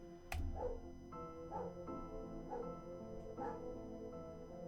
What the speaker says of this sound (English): My dog barking like a total fucking dick.